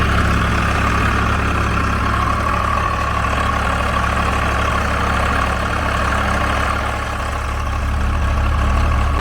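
An old Swaraj 735 tractor's Kirloskar diesel engine runs steadily at close range while ploughing, a loud low rumble with a throaty mid-range drone that holds constant throughout.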